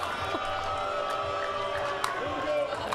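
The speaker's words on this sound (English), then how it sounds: "We hear the crowd show their support for Lily Holiday right there." Spectators at a college pickleball championship match cheer and call out in support of player Lily Holiday, a steady crowd murmur with scattered whoops and claps under commentator voices.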